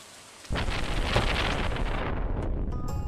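Steady rain pours down in the Stardew Valley video game, a dense, continuous hiss that sets in suddenly and carries on alone at an even loudness.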